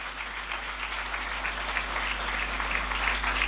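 Audience at a Christian television program on thanksgiving clapping, a soft, even patter of many hands over a low steady hum for about three and a half seconds, somewhat distant.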